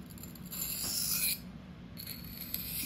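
A REX-45 super steel knife is drawn by hand across a sharpening stone in light, soft strokes, giving a close, steady rasping scrape in two long passes with a brief pause between.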